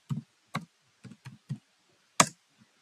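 Keys are pressed on a computer keyboard while entering a password, six distinct close clicks spaced irregularly with short pauses, the last one sharper and louder, in an otherwise quiet room.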